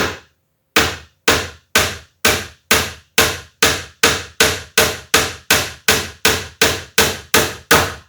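A hammer strikes while a kitchen cabinet corner is being assembled, about seventeen sharp, close blows in a steady, rapid rhythm after a brief silence, each ringing out briefly before the next.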